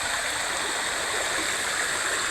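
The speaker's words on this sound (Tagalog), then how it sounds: "Yan yung tubig guys." River water rushes and gurgles in a steady, loud, unbroken wash at a bathing spot, close by and constant, with no voices over it.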